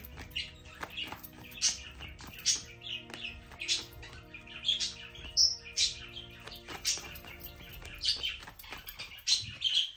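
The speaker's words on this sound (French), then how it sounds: "Vous avez le droit au chant des oiseaux." Songbirds chirp and tweet in quick bursts of song, with many varied calls overlapping at moderate loudness against faint background noise and no speech.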